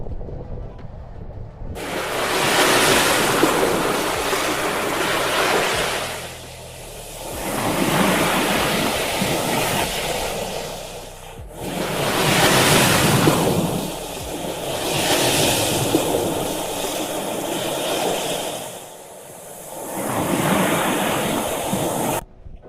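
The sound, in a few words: water lapping at the Tungabhadra dam backwater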